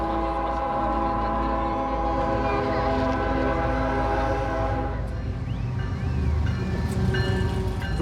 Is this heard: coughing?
no